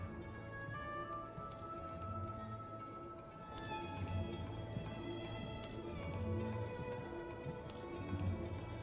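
A dressage horse's hooves strike the arena footing in a steady three-beat canter during a Grand Prix test, soft muffled thuds repeating evenly at a moderate distance beneath ambient arena noise.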